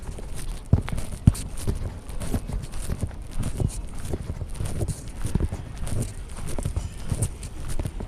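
Hooves clip-clop steadily on a hard street near a station, several horses close by, mixed with a busy outdoor murmur and passing voices.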